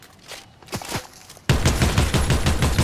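Fortnite gunshots: a few scattered shots at first, then a sudden loud burst of rapid fire that keeps going to the end.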